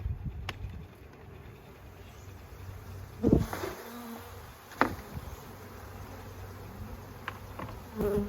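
A steady honey bee swarm buzz hums throughout, with a few brief knocks and scrapes standing out above it.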